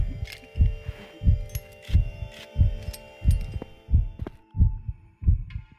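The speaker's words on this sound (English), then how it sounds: "I can hear my heartbeat." A video game heartbeat plays during a high-altitude climb. It is a steady, close, low double-thump repeating about once every half second under a faint hum.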